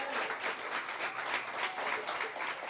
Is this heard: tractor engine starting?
no